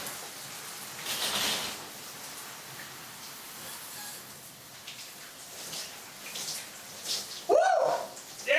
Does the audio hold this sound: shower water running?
yes